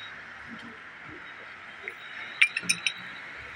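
Tea glasses clink at a café, a few quick, light chimes bunched together near the end over a steady background hum.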